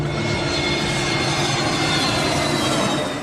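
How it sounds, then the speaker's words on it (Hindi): A fixed-wing passenger plane at Mumbai airport accelerating down the runway to take off, giving a steady, loud engine roar that holds unbroken and fairly close throughout. "मुंबई के हवाई अड्डे से विमान रनवे पर दौड़ता हुआ उड़ान भरता है।"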